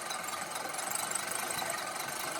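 A Scotts Classic 20-inch manual reel mower cuts grass with a steady whirring, clicking rattle of spinning blades, close and moderately loud, with no talking.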